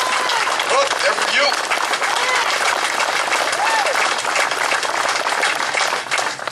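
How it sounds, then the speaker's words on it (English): Sustained, dense applause from an audience at a memorial service following a 9/11 memorial motorcycle ride, loud and steady throughout, with a few voices speaking briefly over the clapping. "Give him a round of applause."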